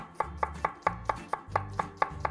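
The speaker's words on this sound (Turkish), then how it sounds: "Şimdi öncelikle piyazlık doğrayarak işe başlıyorum." A knife chops an onion rapidly on a cutting board, about ten crisp, evenly spaced strikes in quick succession, close and clear with no talking.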